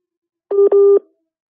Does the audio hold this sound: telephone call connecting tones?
yes